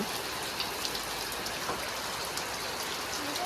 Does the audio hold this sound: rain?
yes